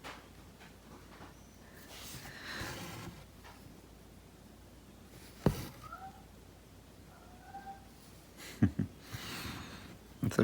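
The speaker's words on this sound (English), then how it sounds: "It's got a right funny little meow." A cat named Ginge gives a few short, odd little meows, faint and spaced apart in a quiet room, with some soft knocks and rustles between them.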